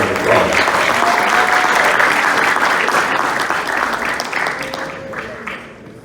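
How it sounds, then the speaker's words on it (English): A crowd at a black tie fraternity ball gives a loud, sustained round of applause that gradually thins and fades toward the end. "Let's give all the Trailblazers a round of applause."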